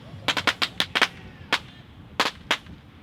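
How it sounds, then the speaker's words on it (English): Fireworks bang off after a drone racing team's victory: a rapid cluster of sharp cracks and pops, then a few scattered louder reports, ringing out over a faint background murmur. "Didn't realize we had a lot of fireworks for that victory."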